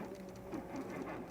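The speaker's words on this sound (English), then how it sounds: "What you're hearing is the anti-tipper spinning." Mobility scooter anti-tipper wheel spinning as a GB-120 travel scooter pushes through thick cut Georgia grass, a steady whirring and rattling drone with a mechanical buzz, close and continuous for the whole moment.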